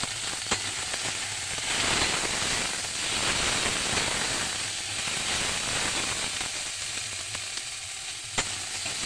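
Chopped tomato sizzling in hot oil with spices in a pan, a steady loud frying hiss with crackling spatters and occasional stirring clicks throughout.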